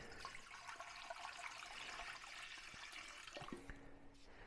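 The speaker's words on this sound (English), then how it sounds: "I'm going to pour my water in." Water pours steadily into the bowl of a Spiralmac Royal Queen 12 Italian spiral mixer for pizza dough, a soft continuous splashing stream that trails off with a few drips near the end.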